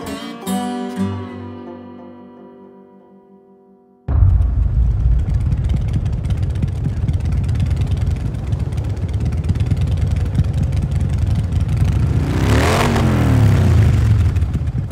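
A ringing tone fades out, then an Arlen Ness custom motorcycle with a Magnaflow exhaust starts and runs with a deep, steady exhaust rumble, revving slightly, close by.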